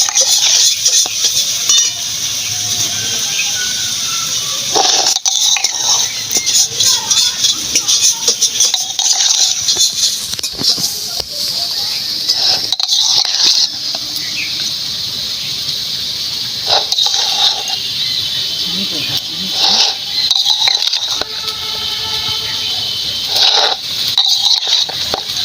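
Fried rice with capsicum, beans and carrot being stirred and mixed in a pan, a steady scraping and rattling over a broad hiss with louder clatters at intervals, sustained throughout.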